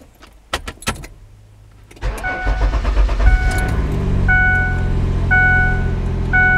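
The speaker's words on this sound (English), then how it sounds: "Start engine." A 2007 van's engine with a weak battery cranks over after a few clicks and jingling keys, then catches and settles into a steady idle, with repeated electronic beeps from a Topdon ArtiBattery 101 battery tester sounding over the running engine.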